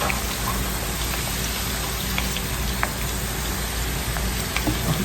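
Potatoes flash frying in hot oil for homemade French fries: a steady, dense crackling sizzle with scattered sharp pops, close and fairly loud, with no voices.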